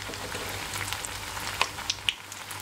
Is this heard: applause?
no